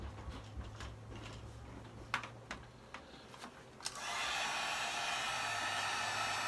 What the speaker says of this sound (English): I'm going to heat up the end with my heat gun here.